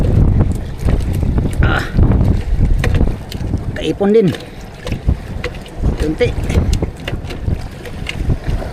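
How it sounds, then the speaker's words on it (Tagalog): Strong wind buffets a small fishing boat at sea while out catching sardines, roaring and gusting steadily over the microphone with brief voices heard through it. "lumakas na naman ang hangin"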